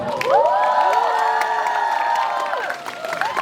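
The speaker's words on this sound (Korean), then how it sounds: "다시 한번 뜨거운 박수로 환영해 주세요." An audience at a film stage greeting in a cinema claps and cheers for the actors, loud continuous applause mixed with shouts and whoops, while an amplified voice rings over the crowd.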